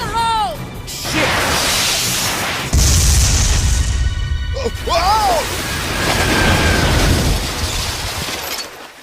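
A grenade blast in the video game Binary Domain booms loudly, with crashing debris and a whoosh over sustained battle noise, while voices shout in the game.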